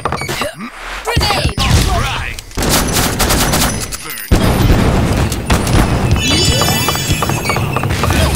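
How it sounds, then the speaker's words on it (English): Blasts and explosive booms from grenade attacks in Dungeon Fighter Online PvP combat, with gunfire-like bursts and clattering hits in dense, loud succession, mixed with game voice callouts. "Grenade!"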